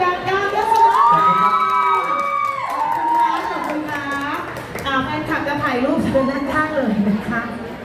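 A crowd at a festival stage event claps and cheers, with shouting and whoops from fans mixed in, while amplified voices talk over the noise and music-like tones run underneath.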